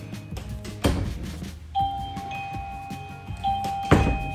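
A BISTEE wireless doorbell chime rings twice, clear electronic ding tones sustaining and fading, with a couple of soft thumps in the background.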